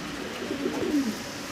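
Low, soft cooing from black Lahori pigeons at a pigeon farm, one brief murmuring call over faint background hum.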